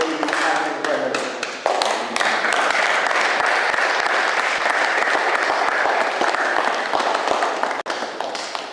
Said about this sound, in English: Please, can we give a hand of applause?